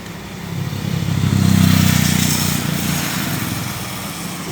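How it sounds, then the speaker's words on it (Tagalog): A 2014 Ford Ranger with a low-power fault, its engine idling steadily, then a smooth rev that rises and falls back, heard close up in a repair shop with no talk. "Makinig kayo sa engine."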